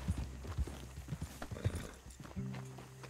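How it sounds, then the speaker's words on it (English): A Red Dead Redemption 2 horse trots briefly with light hoof clops, then gives a short whinny near the end, faint under the game ambience. "Good horsey."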